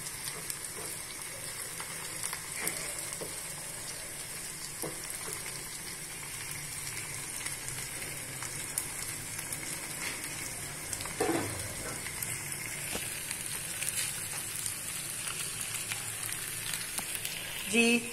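Steady crackling sizzle of garlic and ginger frying in hot oil, close and continuous, with occasional stirring scrapes and no talking.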